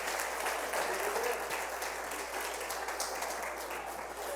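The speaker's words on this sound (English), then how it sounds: "Come on, clap your hands. Clap your hands." Church congregation clapping hands together, a steady dense wash of claps continuing for several seconds with some voices mixed in.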